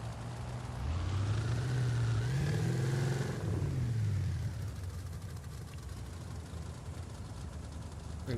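A car engine in the Forza Horizon 5 racing game revs up hard with a rising, wavering pitch, holds a loud roar for a few seconds, then eases off into a quieter, steady drone.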